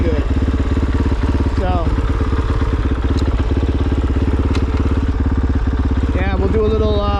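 Kove 450 Rally motorcycle engine running on a Pro 230.1 ECU map, a loud, steady close-up thump with a slight blip of revs partway through; a voice speaks briefly over it.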